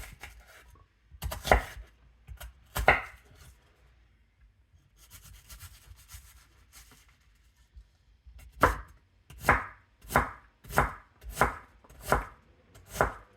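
A knife chops onion on a cutting board for nachos, first in scattered single thumps, then a quick regular series of crisp close chops near the end, with no talk.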